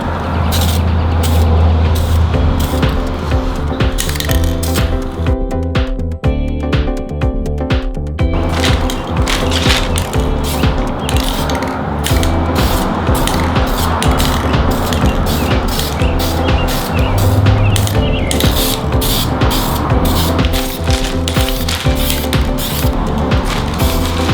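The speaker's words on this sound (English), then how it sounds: "Shake the can of gloss as normal and start applying your first coat." Gloss paint sprayed from an aerosol can onto brake calipers of a 1999–2004 New Edge Mustang, a loud continuous close hiss with brief pauses and shifts in spray intensity, under steady background noise and no talk.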